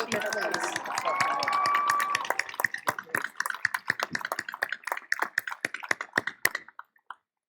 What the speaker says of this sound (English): One more round of applause for our commencement speaker, please.